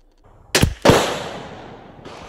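Two sharp reports from a Sako .22 rifle in quick succession, the second followed by a short decaying echo, loud and close with no talk.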